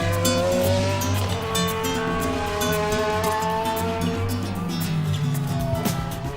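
An A1GP Ferrari prototype race car on a testing run, driven by Ferrari test driver Andrea Bertolini: a loud, close engine howls with steady, shifting harmonic tones, mixed with tire squeal, continuous throughout.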